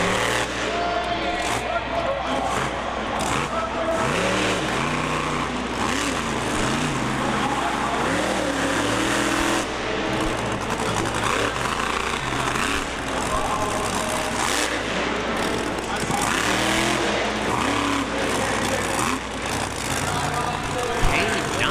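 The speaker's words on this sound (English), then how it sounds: "It's CAIN, the world's largest ATV. It's wild, but it puts on a performance too." A huge monster ATV engine roars at Bristol Motor Speedway during a night motorsport show, loud and continuous with rising and falling revs under a crowd and an announcer talking over the public address.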